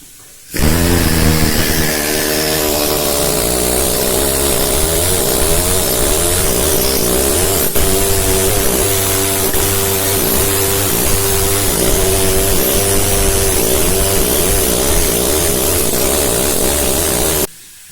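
Loud, continuous mechanical hammering from two pneumatic stone-carving hammers of different sizes running side by side, a dense rapid drone without pause for the whole stretch.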